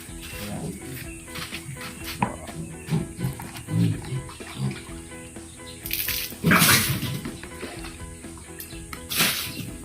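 Water splashes and pours steadily while a young backyard pig is bathed for the first time to rinse off dirt, with brief louder gushes and occasional animal noises and handling sounds.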